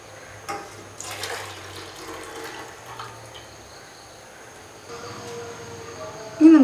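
About three-quarters of a glass of milk is poured into a pan for cardamom tea, giving a soft, steady liquid pour with faint kitchen background and a brief louder clink right at the end.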